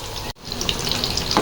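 Chicken nuggets fry in hot oil with a loud, steady, close sizzle and crackle, broken by a brief dip. No one speaks.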